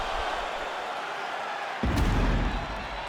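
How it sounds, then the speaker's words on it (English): A virtual arena crowd in the EA Sports UFC 5 video game swells into loud applause and cheering after a round, rising suddenly from a low murmur and holding strong to the end. "the crowd voicing its appreciation after that round"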